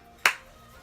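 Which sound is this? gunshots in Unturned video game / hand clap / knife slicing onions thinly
hand clap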